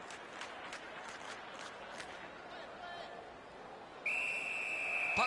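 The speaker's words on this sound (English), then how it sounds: "Puck covered, whistle blown." A referee's whistle blows sharply at an ice hockey game between the Pittsburgh Penguins and San Jose Sharks, a long shrill tone cutting in near the end over steady arena crowd murmur and skate noise.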